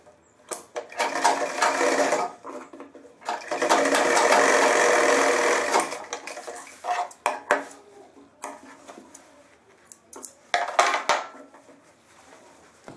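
An electric sewing machine stitches a double-piped back pocket onto trousers in bursts, a few short runs, then one long sustained whirring stretch, followed by more brief start-stop runs, close and clear.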